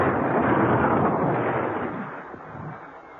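A dense, roaring blast of explosions as an inferno breaks out in a wartime radio drama, loud and continuous at first and then slowly rumbling away, with no voices.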